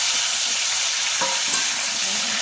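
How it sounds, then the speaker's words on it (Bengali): Ridge gourd, drumstick and potato pieces fry in hot oil in a pan, giving a loud, steady, close sizzle with light stirring scrapes over it. "ঝিঙে, আলু, ডাঁটা হালকা করে ভেজে নিচ্ছি"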